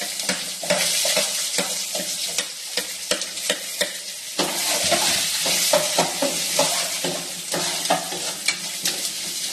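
Onions and mustard seeds fry in a pan for Bidar-style avalakki susla, a loud, close sizzle broken by repeated scraping stirs of a spatula in an even rhythm.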